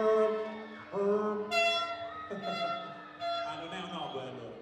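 Brass tones from a trumpet ring out in short sustained notes and phrases, fairly quiet, with some hall ambience.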